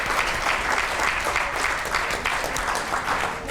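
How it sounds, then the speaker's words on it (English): A class at a keynote luncheon applauds and cheers for a student, a dense, steady burst of clapping with some crowd noise, close and loud and continuous throughout, with no one speaking over it. "Can we give her a catch-up cheer"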